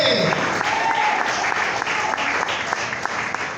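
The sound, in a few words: congregation applauding in church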